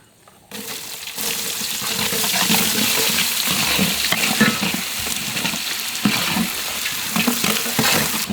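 Chopped onion drops into hot cold-pressed sesame oil with cinnamon and sizzles loudly, a dense crackling fry with occasional stirring scrapes, continuing steadily throughout.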